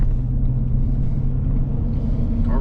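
Truck with its resonator deleted and a Carver muffler, exhaust rumbling deep and steady at close range, a loud continuous low drone with little variation and no talk.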